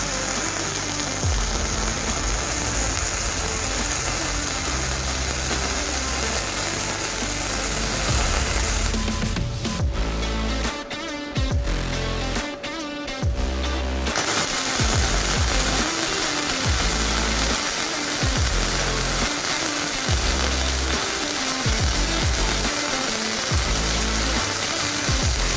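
MIG welder running beads on 1/4-inch flat bar, a steady loud crackling sizzle of the arc filling the whole stretch, briefly broken by a short pause with a smoother hiss partway through.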